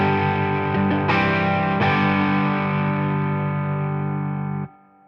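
Electric guitar played through a Ranges overdrive pedal at low gain, several sustained distorted chords struck in turn and left ringing loudly, then cut off abruptly near the end.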